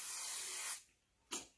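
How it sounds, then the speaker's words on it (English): Chi hairspray hisses from an aerosol can onto hair in one long, steady spray. After a brief pause a short second burst follows. Both are close and fairly soft. "I'm going to take my Chi hairspray"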